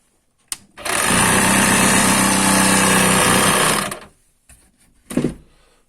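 A battery-powered cordless air compressor, converted from an old battery charger unit to run on 12 volts, runs loudly and steadily for about three seconds after a click, then shuts off, followed by a couple of faint clunks.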